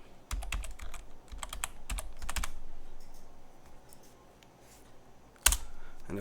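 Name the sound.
typing a Linux power off command on a keyboard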